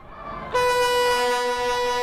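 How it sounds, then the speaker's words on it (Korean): A train departs onto a sea railway bridge, sounding a loud sustained horn blast that starts abruptly and holds steady over faint background noise. "주민들의 환호 속에 열차가 해상 철교로 출발합니다."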